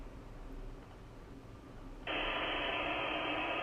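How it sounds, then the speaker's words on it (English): Quiet background hum, then broadband hiss switches on abruptly and continues steadily at an even level. "And now I'll turn the white noise on."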